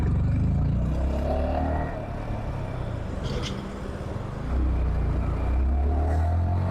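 A motorcycle rides through city traffic at night, recorded from a helmet-mounted wireless mic, with a steady low engine drone and wind rumble that dips briefly midway before swelling again, continuous and close.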